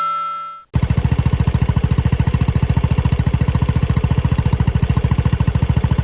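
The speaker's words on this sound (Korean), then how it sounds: "단기통 특유의 거친 배기 사운드와 진동이 느껴지는데요." A rough, loud single-cylinder scooter exhaust idles with a steady fast pulsing throb, starting abruptly after a brief tone at the beginning.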